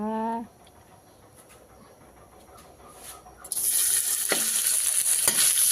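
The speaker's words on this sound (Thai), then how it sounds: "ผัดเครื่องแกงก่อนนะคะ แกงเคียงที่เราโขกเมื่อกี้นะคะ" Pounded Thai curry paste hits a hot pan and breaks into a loud, bright, continuous sizzle of stir-frying for a fish dish, after a brief voice and a quiet pause.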